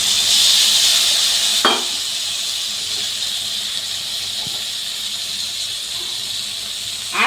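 Ground spice paste hitting a hot pan for rohu fish curry, a loud hiss that bursts at the start then settles into a steady softer sizzle, with a couple of brief clinks, no talking.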